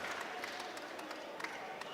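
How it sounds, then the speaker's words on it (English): Crowd at a York Hall boxing match applauding both fighters after the contest, a faint, continuous patter of distant clapping with scattered louder claps. "referee Cook would like you to give both boxers a big round of applause"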